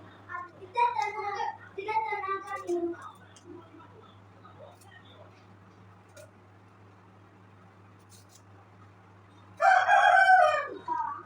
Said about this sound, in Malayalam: പുറത്ത് കോഴിയുടെ ഓളി